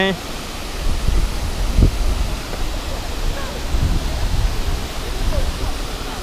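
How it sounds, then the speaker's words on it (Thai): Waterfall at Yong waterfall flowing as a steady broadband rush, fairly close and continuous, with faint voices and wind buffeting the microphone. "ตรงนู้นตรงนู้นเป็นน้ำตกไหลนะ"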